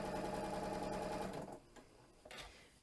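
A Janome Continental M7 sewing machine stitching appliqué, a fast even mechanical whir of needle strokes that runs close up, then slows and stops, followed by a couple of light clicks.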